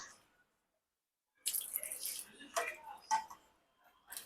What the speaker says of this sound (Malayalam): നമുക്ക് ഇതിലോട്ട് കുറച്ച് വെള്ളം ചേർത്തിട്ട്